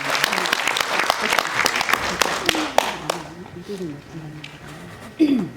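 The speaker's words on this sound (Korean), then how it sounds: "여러분 큰 박수로 맞아주시면 감사하겠습니다" Audience applause greets a National Assembly member invited to give a congratulatory speech at a consumer rights forum; dense clapping fills the first three seconds, then fades as a voice speaks alone.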